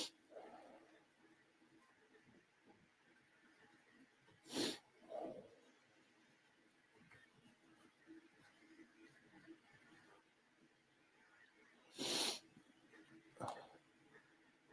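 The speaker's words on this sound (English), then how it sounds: "get my sneezing out of the way." A person sneezes twice, each a sudden loud burst separated by several seconds of quiet room tone, with a small breathy follow-up after each.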